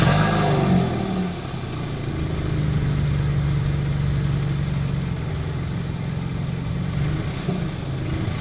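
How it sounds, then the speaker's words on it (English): A Kia Sportage SUV's engine rumbles loudly from the exhaust, revving up briefly at first and then holding a deep, steady drone. "As always, here is that exhaust clip."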